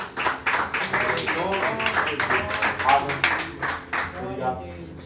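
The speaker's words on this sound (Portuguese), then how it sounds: "Me dê uma salva de palmas ao Senhor." A church congregation claps together during a worship service, the dense, rhythmic applause running beneath a voice that keeps talking over it.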